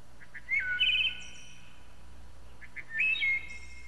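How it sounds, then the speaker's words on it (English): Two short bursts of clear, fluting wood thrush song, each a quick run of high whistled notes, separated by a pause over a quiet outdoor background. "And that sounds like the call of a wood thrush."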